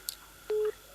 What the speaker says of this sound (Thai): โทรศัพท์